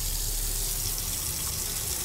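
Water running steadily into a container in the Autopsy Simulator video game, a continuous close tap-like rush with no speech.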